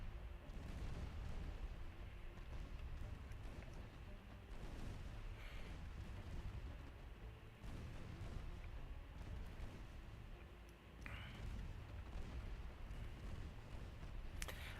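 Naval gunfire and ammunition detonations in the Ultimate Admiral Dreadnoughts warship game, a continuous rumbling barrage of dull booms with several sharper blasts.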